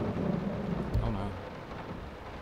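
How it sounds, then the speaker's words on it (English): Rain falls steadily in the horror game Layers of Fear, a soft, even wash with a brief low rumble near the middle, while a person talks over it. "Like that rain. Rain is awesome."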